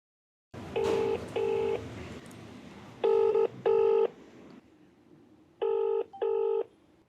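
Telephone ringback tone for an outgoing call, loud close double rings repeating in three pairs against a low background hum, with no talking over them.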